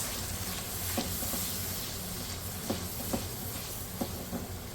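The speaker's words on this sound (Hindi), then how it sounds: "इन मसालों की थोड़ी सी करते हैं भुनाई पहले" Dry spices (red chili powder, turmeric and salt) fry in oil for matar khandwi salan, making a steady close-up hiss with occasional clicks and scrapes from stirring throughout.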